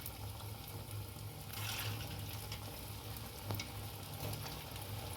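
Potato balls deep-frying in hot coconut oil, a steady bubbling sizzle with a brief surge of spattering and a few louder pops, heard close with no talk.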